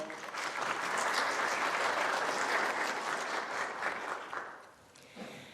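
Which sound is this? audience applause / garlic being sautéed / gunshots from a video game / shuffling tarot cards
audience applause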